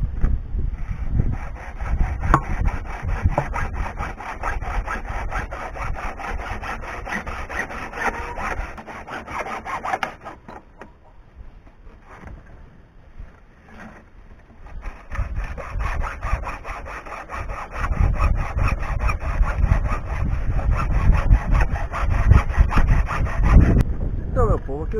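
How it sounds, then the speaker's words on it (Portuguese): Hand saw cutting feeder holes in a homemade chicken feeder, loud continuous rasping strokes close up, easing briefly midway before resuming at full strength. "Já cortei aqui onde é que vai ficar os buracos para o comedouro."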